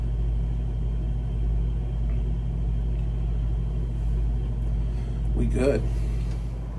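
A boiler burner lights after a faulty low water cut off is replaced, giving a steady low rumbling roar that runs throughout, close and loud, with a brief spoken remark near the end.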